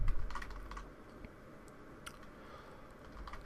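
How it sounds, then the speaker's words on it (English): Someone types on a computer keyboard, producing quiet, irregular clusters of key clicks with short pauses and no talking. "I'll just keep on typing."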